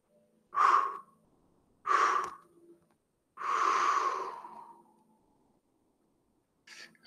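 Breathing during a qi gong exercise: three loud, close breaths, two short and one long, drawn-out exhale, with quiet pauses between them and a faint fourth breath at the end.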